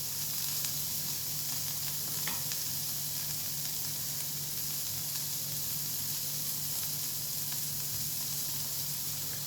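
Steady, close sizzling of bitter gourd frying in a pan, a constant hiss and crackle throughout with no talking.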